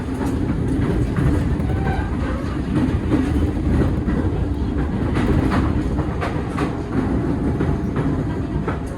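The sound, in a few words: KA Kertajaya train passing Pasar Senen station without stopping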